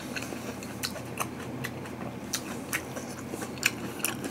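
Close, crisp crunching from someone chewing raw vegetables dressed with Chungjungone fat-free lime pineapple salad dressing. Irregular bites and crunches fall about every half second over quiet room tone, with no talking.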